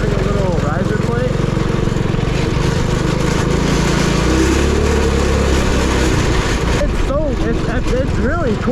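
A Predator 212cc stage 1 small engine bolted directly to a frame runs steadily and loud throughout, its low vibrating drone shifting pitch with speed, under continuous talk.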